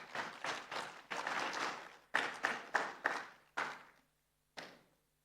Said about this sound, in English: A round of applause again for that wonderful presentation.